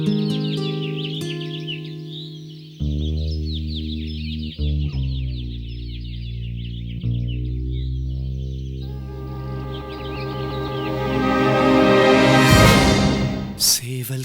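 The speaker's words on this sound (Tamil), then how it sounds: "கூவும் சத்தம் கேட்டு" A rooster crows and clucks over sustained musical tones, the calls rising to a loud, strained peak near the end.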